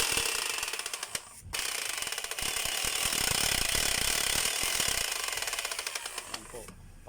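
A Makita 4131 circular saw runs noisily with a broken gear, giving a harsh, rattling mechanical drone with rapid clicking pulses, briefly cutting out and restarting, loud and close.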